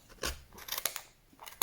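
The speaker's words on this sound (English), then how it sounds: "So I have split the two layers of cardboard and put my scissors in there." Scissors snip through layers of yarn wound around a split cardboard pom-pom maker, giving several quiet, uneven crunching cuts close by with no voices.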